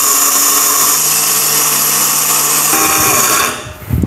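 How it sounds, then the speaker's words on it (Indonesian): A blender runs at its lowest speed, crushing ingredients in a small glass jar with a steady, loud whir that holds for about three and a half seconds before cutting off. "Langsung saja saya akan mulai memblender."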